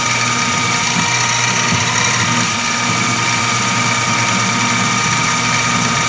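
A steady, loud machine drone with constant tonal hum comes from a mill reaming a hole one thousandth undersized with a 0.124 reamer in a model steam engine crankshaft, running continuously without pauses.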